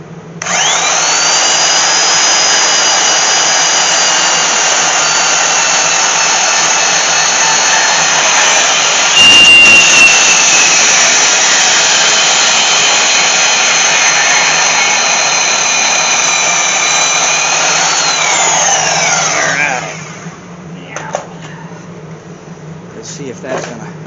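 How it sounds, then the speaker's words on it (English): A power saw trims a rusty roll cage on old farm equipment, cutting with a loud, continuous high whine that holds steady for about twenty seconds before spinning down, leaving quieter clatter. "So that being said, I've got my trusty saw"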